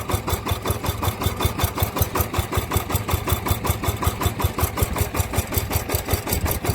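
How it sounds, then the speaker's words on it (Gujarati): A tractor engine chugs steadily at close range, a loud, rhythmic, rapid thumping that continues without a break. "અને જો અહીંયા ટ્રેક્ટર ચાલુ છે"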